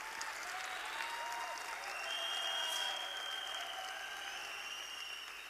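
An audience claps steadily at a talk, a dense, even patter of many hands that holds at a constant level, with a faint tonal whine running beneath it.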